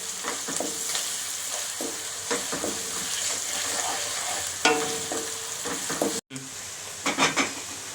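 Rock salt and curry leaves fry in oil in a pan for a Nellore-style fish pulusu, a close crackling sizzle stirred with sharp spoon clacks against the metal, briefly cutting out before resuming.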